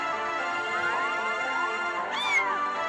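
A white and tabby cat in a cat-themed game gives a drawn-out meow followed by a second, higher, sharper one, clear and close, with no talk.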